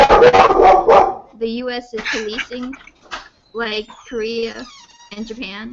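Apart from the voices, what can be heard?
dog barking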